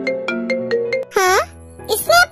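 A phone ringtone chimes in a quick series of bright melodic notes, loud and close, followed by short bursts of a voice speaking.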